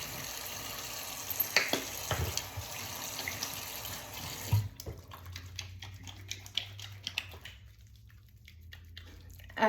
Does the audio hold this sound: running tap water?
yes